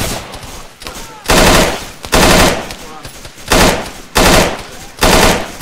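Loud bursts of automatic gunfire from a Vietnam-era MAC-V SOG military video game mission, five or six heavy sustained volleys in a steady rhythm with short gaps between them, close and dominant.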